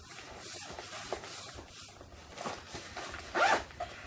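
Zipper on the front pocket of a Cotopaxi Luzon 18-litre top-loading daypack, pulled in several short rasping strokes close up, with a louder zip near the end amid fabric rustling.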